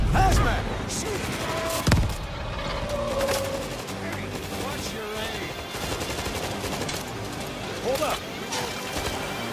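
Heavy automatic gunfire and scattered shots from the zombie shooter World War Z, a loud sustained fusillade with a sharp bang near the start and players shouting over the firefight.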